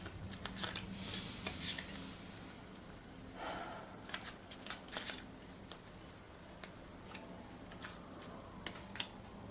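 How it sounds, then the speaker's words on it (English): Tarot cards are shuffled by hand in bursts of crisp riffling and soft slaps, close and quiet, pausing briefly between shuffles. "The cards are done shuffling."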